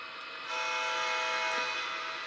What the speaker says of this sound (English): I'm going to give you a train crossing.